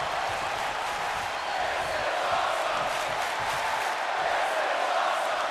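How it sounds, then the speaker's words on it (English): Capacity arena crowd at Madison Square Garden in the WWE 2K24 wrestling game roars in a steady, dense wall of cheering and shouting, loud and unbroken throughout. "Some great appreciation being shown by this capacity crowd here in the Garden."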